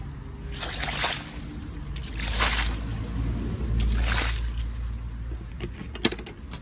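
Water sprays and splashes over an alloy wheel during a rinse, coming in several surging bursts of hiss and slosh separated by brief dips, close and fairly loud.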